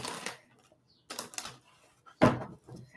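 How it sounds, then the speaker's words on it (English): A few separate bursts of papery riffling and clacking as tarot cards are shuffled, close by, with short quiet gaps between them. "I'm going to do one more shuffle here."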